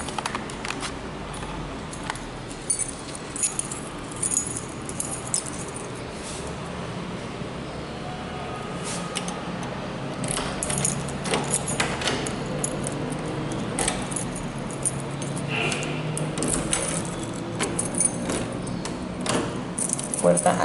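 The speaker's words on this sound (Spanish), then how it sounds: "La puerta me relaciona 2 llaves, una de su seguro y una de la chapa." Two keys for a door's deadbolt and lock jangle and clink repeatedly, close and metallic, in irregular bursts throughout while someone talks over them.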